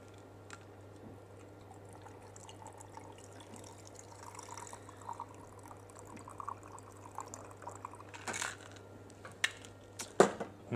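Pineapple drink mix poured from a container into a copper mug for a Moscow mule, a faint trickle building into louder splashes and clinks near the end.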